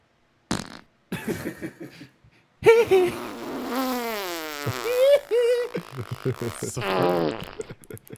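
Soundboard fart effects play in a podcast studio: several buzzy, wobbling blasts of varying pitch and length, loud and close, with short gaps between them.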